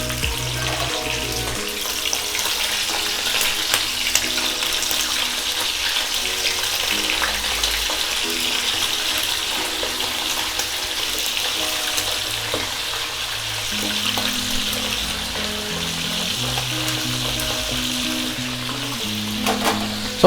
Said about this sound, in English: Make sure your wings is dried enough, and we'll just fry it